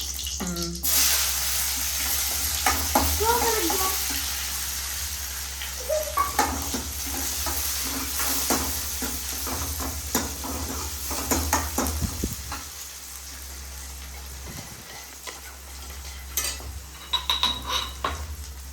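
Onions sizzle and crackle in a hot pan, with occasional stirring scrapes and clinks of a utensil, steady and close throughout.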